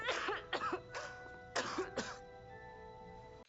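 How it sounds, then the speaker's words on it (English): Harsh, wet coughing bursts from a character in the TV series Wednesday, coughing up blood: two clustered fits with a pause between, close and fairly loud, and a faint steady tone lingering underneath. "Coughing up blood"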